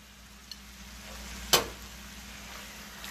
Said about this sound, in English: We're going to go ahead and throw in our onion.